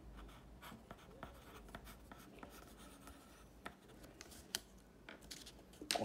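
A pencil or charcoal writes a name on paper, producing faint, dry scratching strokes in a quiet, steady rhythm with small taps and pauses between letters.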